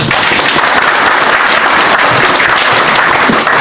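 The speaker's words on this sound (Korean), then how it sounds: "큰 박수로 환영해 주시겠습니다." A loud, close audience at a civic movement founding event gives sustained, dense applause welcoming a guest, continuous and even from start to finish.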